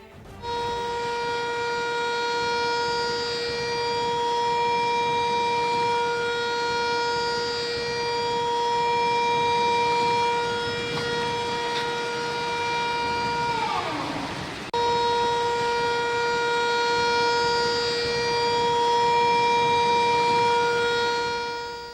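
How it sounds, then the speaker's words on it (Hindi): A civil defense siren wails steadily and loudly for a long stretch during floods in Islamabad and Rawalpindi, its tone dipping and briefly cutting out before resuming at full strength. "ये तो आपने देखा किस तरह से सायरन बजाए गए"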